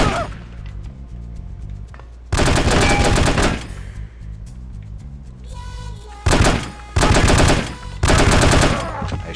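Automatic weapon fire from enemies in the spy shooter The Operative: No One Lives Forever, several loud sustained bursts, each lasting about a second, separated by quieter stretches of game sound.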